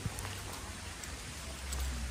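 Steady rain falling outdoors at Yangmingshan Thermal Valley in Taiwan, a dense even patter with soft drops throughout, no voices.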